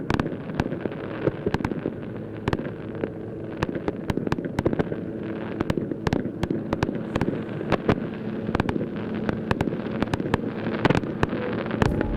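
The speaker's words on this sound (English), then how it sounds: "plus some pyrotechnic displays of a style that we aren't used to seeing at Duxford" Pyrotechnic fireworks go off at an airshow at Duxford. Rapid, irregular sharp cracks and pops ring out over a low continuous rumble and some wind noise. No one speaks.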